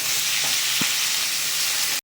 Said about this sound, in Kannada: ಇವಾಗ ಇದನ್ನು ಚೆನ್ನಾಗಿ ಹುರ್ಕೊಳ್ಳೋಣ